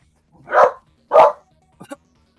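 A dog barks twice, sharp and fairly close, with a shorter, fainter yip following after a pause, all against a quiet background.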